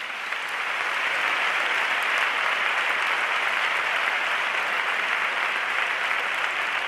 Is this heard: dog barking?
no